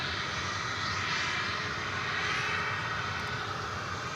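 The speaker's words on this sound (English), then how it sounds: "American Flight 1750 from Cancun, an Airbus A321. That's coming in ahead of the Korean Air flight." An American Airlines Airbus A321 arriving from Cancun at DFW Airport produces a steady, broad jet engine roar and whine that stays loud and constant.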